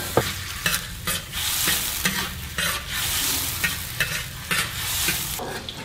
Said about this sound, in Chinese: 锅热倒点油，香菇跟猪肉得先炒一下，比较香。